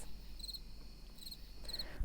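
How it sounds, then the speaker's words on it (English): Crickets chirp in three evenly spaced bursts of high, rapid trills over a soft, steady night hiss, with no voices. "crickets"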